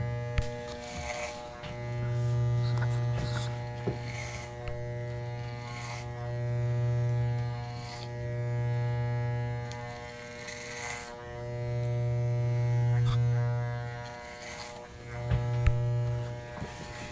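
Electric taper hair clipper buzzing steadily in a barbershop during a medium fade haircut, a close, continuous hum that runs in long bursts with short pauses between passes.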